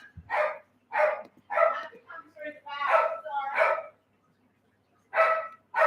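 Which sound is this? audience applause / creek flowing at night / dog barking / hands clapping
dog barking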